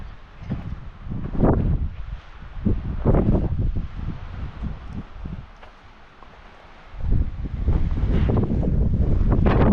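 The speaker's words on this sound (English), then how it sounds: "The wind was fierce up here," Fierce wind gusts buffet the microphone on a mountain top, roaring and rumbling in uneven, loud bursts with a calmer lull in the middle before blowing hard again.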